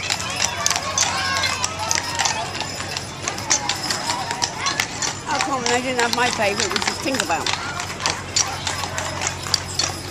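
Miniature horses walk in a county fair parade in Umatilla County, their hoof clip-clops mixed into a busy outdoor crowd din, with people talking over them throughout.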